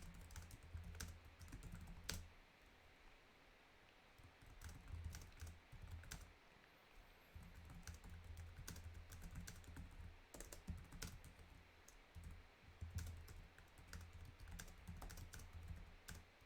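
Fingers type on a computer keyboard during a Discord call, a faint, quick patter of key clicks that comes in bursts with short pauses, heard close to the microphone.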